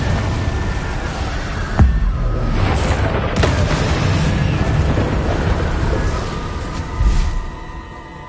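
Explosive blasting spell cast in a Harry Potter video game, heard as a sustained rumbling boom with sharper bursts near the start and again toward the end over continuous low roar, loud and close.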